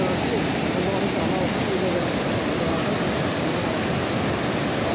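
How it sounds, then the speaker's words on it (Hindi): The Kali Sindh river rushes swiftly upstream in a loud, steady broadband roar of flowing water that fills the whole stretch without pause, with no clear voices over it. "कितना वेग से ये पूरा पानी बह रहा है"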